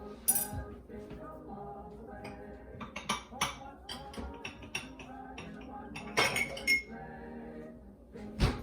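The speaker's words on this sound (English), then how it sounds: "I'm actually going to get a flat glass and press this down." A flat-bottomed water glass presses a gluten-free dream bar crust into a baking pan, giving quiet, scattered clinks and taps of glass against the pan at irregular intervals.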